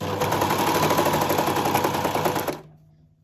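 A sewing machine runs continuously, stitching sweater ribbing onto fabric with a fast, steady mechanical whir and rattle, close and loud, then stops abruptly near the end.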